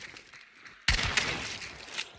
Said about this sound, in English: I just shot in the general direction through the bush.